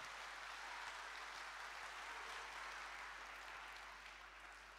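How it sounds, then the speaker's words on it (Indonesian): Applause from the participants and congregation at a church youth games gathering, a continuous dense wash of clapping that sounds distant and faint, holding steady before easing slightly at the end. "Tepuk tangan untukmu semua."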